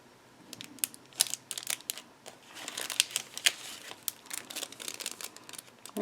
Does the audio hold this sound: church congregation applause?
no